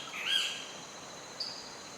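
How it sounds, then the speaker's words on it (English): Shorebirds and seabirds give short, high calls at a Costa Rica river mouth, one clear call near the start and a fainter one after, over quiet ambient hiss. "Shorebirds and wading birds feed at the river's mouth."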